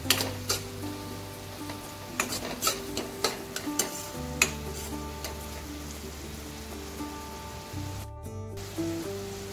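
Ridge gourd and chana dal stir-fried in a pan, a steady sizzle with repeated scraping and clanking of a spoon against the metal, continuous and fairly close with no talk.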